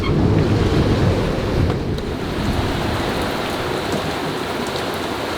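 Rain pours onto a sailboat in the middle of the ocean under roughly 20 knots of wind, a dense, loud hiss of drops mixed with wind and wave wash, constant throughout with no voices.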